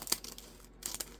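Scissors snip the name off a paper label for stamping punches, a few quick, crisp crinkly cuts close by and fairly quiet, with no talking.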